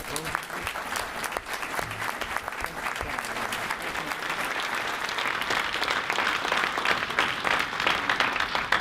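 Audience applause at a mayoral candidates' forum, a dense, continuous roar of many hands clapping that builds slightly louder over several seconds, with faint crowd murmur beneath.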